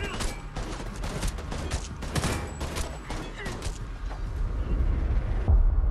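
Dense, continuous gunfire from Homefront: The Revolution, with many overlapping shots in rapid bursts alongside booming impacts and game ambience, loud throughout and growing heavier near the end.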